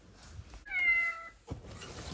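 A metaCat robotic cat gives a single clear, mid-length meow up close, set against faint handling noise.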